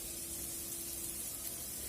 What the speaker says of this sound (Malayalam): എണ്ണ ഒഴിച്ചതിന് ശേഷം സവോള ചേർക്കുക